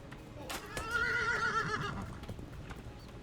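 A horse in the video game Legends of Aria whinnies over hoof clip-clops and ambient background, the neigh rising and trembling for about a second, moderately loud.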